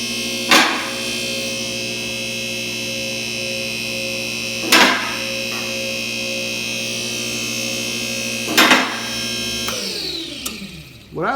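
A Triumph C7000 two-post lift running a cycle: a steady, loud electric motor and pump hum with a constant whine, broken three times by brief clunks, ending in a falling whoosh and a final clunk.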